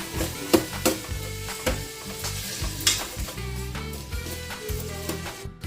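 Sliced onions with rock salt are stirred in a pan for a chicken curry, giving repeated rhythmic scraping strokes over a steady sizzle, close and fairly loud, with no one speaking.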